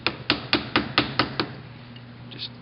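Seven sharp metallic hammer blows in a steady rhythm on a cable thimble held against the edge of a vise, opening it up during cable assembly; close and clear, with no talking.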